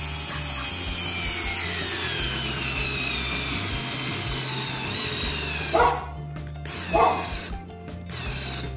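An IKEA Fixa electric screwdriver whirs steadily while driving a large screw into a wooden board, a continuous mechanical grinding with two short louder bursts near the end and no talking.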